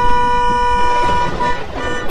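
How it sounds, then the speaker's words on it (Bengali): A loud, sustained car horn blares for a couple of seconds, steady and close. "এটা গাড়ির আওয়াজ ছিল না?"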